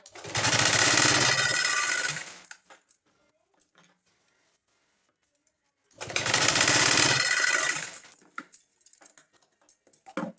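Sewing machine stitching fabric for a tassel in two loud bursts of about two seconds each, a dense rapid mechanical whir close up, separated by near silence with faint handling clicks.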